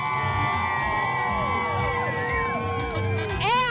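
Parade crowd at a Puerto Rican festival in Florida cheers and whoops, with loud overlapping shouts and rising and falling whistle-like cries over a steady crowd murmur, a sharp shout near the end.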